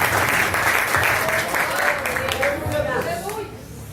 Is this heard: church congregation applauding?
yes